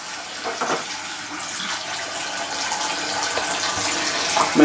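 Tap water runs and splashes steadily while a container is rinsed, with shifting sloshes and a small clatter near the end.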